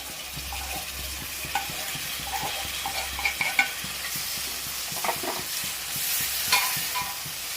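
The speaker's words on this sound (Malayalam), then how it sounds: "ആ സമയത്ത് നമുക്ക് ഈ തക്കാളി ഇട്ട് കൊടുക്കാം." Tomatoes added to bubbling prawn biryani gravy, a steady close sizzle and simmer with repeated stirring scrapes and a few spoon taps against the pot.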